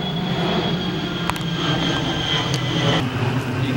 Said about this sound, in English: Wait for the plane too.